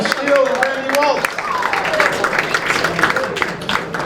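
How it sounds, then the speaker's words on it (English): Audience claps and cheers for school board candidates at a forum, a moderately loud burst of applause with voices talking over it. "I'd like to have you give a nice round of applause to all of our candidates"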